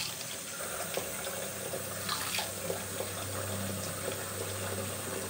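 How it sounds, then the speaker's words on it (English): Hot water runs steadily from a tap into a bathroom sink before a shave, a continuous hissing splash that stays even throughout. It is moderately close, with no talking. "now I will fill up my sink and heat up my razor with hot water"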